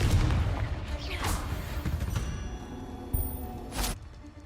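Confringo spell blast in the video game Hogwarts Legacy: a loud booming explosion with a rumbling low end that fades out, then a second sharp burst near the end.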